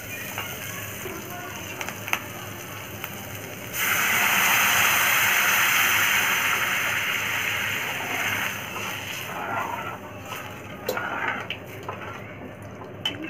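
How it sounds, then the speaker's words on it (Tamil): Water poured onto onions and green chillies frying in oil for prawn Maggi, a sudden loud hissing rush of steam that swells for several seconds and then settles into a softer bubbling sizzle. "இது நல்லா வதங்கனோனே தண்ணி விட்டுக்கலாம்"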